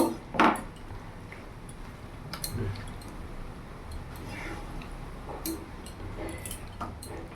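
Wooden spatula scraping and clinking in a pan while fried fish is stirred into a potato and aubergine curry, a loud knock at the start followed by soft intermittent scrapes and taps, with faint talking.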